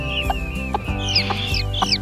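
A hen clucks in a steady, close series of short throaty calls about every half second, with a few higher squawks mixed in and no talking.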